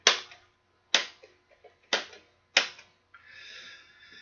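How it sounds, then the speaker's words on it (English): Switches on top of a shortwave radio click sharply four times at a steady, unhurried pace, with faint smaller clicks between them, close up and followed by a soft hiss of static. "This is the top with the switches that you can hear the clicking."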